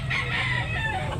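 A rooster crows once at a chicken market in Tabunok, Talisay, Cebu, a short, fairly quiet call heard alone and close by.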